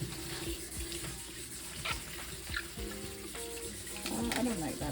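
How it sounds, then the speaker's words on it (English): Cold tap water runs steadily into a sink while leaves are rinsed for Jamaican beef chop suey, a continuous splashing rush under faint kitchen sounds and soft talk. "all I'm doing is just using cold water to wash the leaves"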